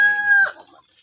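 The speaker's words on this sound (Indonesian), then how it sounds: "saat sekarang saya sedang memberi pakan ayam." Free-range village chickens being fed, one close, loud crowing-like cluck that drops off quickly into quieter clucking.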